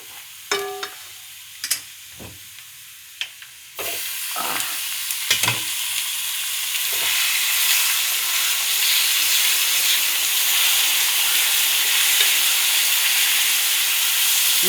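Ground beef dropped into a hot pan over browned garlic and onion for spaghetti, a few scrapes and stirs at first, then a steady loud sizzle and hiss of frying that keeps rising and fills the rest of the time.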